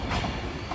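Class 390 unit 390 049 on a London Euston to Edinburgh service passes at Crewe on the West Coast Main Line, a brief steady roar of rolling wheels and rail noise, loud and close.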